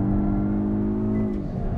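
A front-wheel-drive hot hatch at full throttle on Winton race track, engine howling near the rev limiter in a loud sustained drone that holds high and then drops slightly as it lifts off, heard from inside the car.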